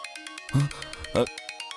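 A phone ringtone plays a short repeating electronic melody, with two brief louder bumps partway through.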